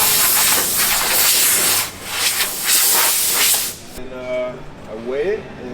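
An aerosol cleaning spray aimed at a guitar in a workshop gives a loud, continuous hiss lasting a few seconds, with brief pauses, then cuts off as a voice begins talking.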